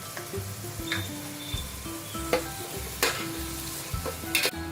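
Chopped onions frying with ginger-garlic paste in a large pan for pav bhaji, a steady sizzle broken by several sharp scraping strokes and clatters of a spatula stirring, no voices.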